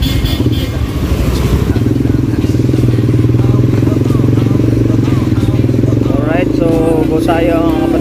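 Motorcycles riding counterflow on a busy Makati city street, engines droning steadily and close amid traffic clatter, with a horn-like tonal sweep near the end and people talking over the noise.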